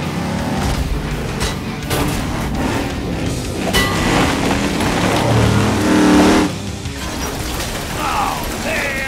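Cartoon monster trucks racing, with loud roaring and revving engines and rattling mechanical clatter that swell and then drop off, close and dominant throughout.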